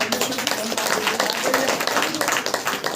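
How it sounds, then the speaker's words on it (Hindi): A church congregation clapping in worship at a Saturday prayer meeting, dense rhythmic applause mixed with voices throughout. "यीशु मसीह की ताली बजा करके"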